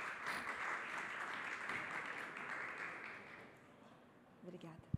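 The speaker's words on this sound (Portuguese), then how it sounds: "Uma salva de palmas para ele." An audience applauds a speaker at a talk, steady broad clapping for about four seconds that fades away, followed by a few brief knocks and a faint bit of talk.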